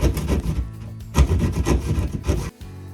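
A hand saw cuts a piece of sheetrock drywall for a wall repair, making rhythmic scraping strokes in close bursts. A short pause breaks the strokes, which then resume before ending abruptly.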